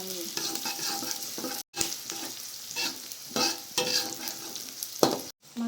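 Onion and garlic fry in a pan with a steady, soft sizzle. A utensil scrapes and stirs in repeated bursts, and there are brief breaks between the stirring passes.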